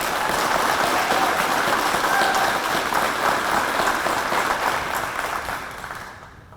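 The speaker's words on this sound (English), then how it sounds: "Please give the North Hardin musical director and band a round of applause" An audience at a high school Veterans Day ceremony applauds the musical director and band, a full, even crowd clapping that gradually thins and fades out at the end.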